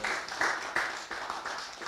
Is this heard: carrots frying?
no